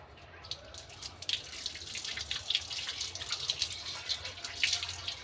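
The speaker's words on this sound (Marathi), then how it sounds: "आपण थोडंसं पाणी टाकू बघा याचं." Water is poured lightly over freshly planted potatoes in soil, making a faint, steady splashing trickle with small spattering drips throughout.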